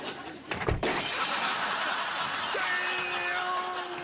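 Glass shatters loudly in one sharp crash at a tip or dump beside a Peugeot, then debris rings and settles into a sustained hiss of scattered shards, with a faint laugh briefly in the background.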